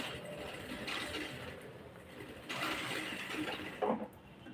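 A sewing machine works fabric with faint mechanical clicking and ratcheting, a short burst, a pause, then a second stretch of whirring with a sharper knock near the end.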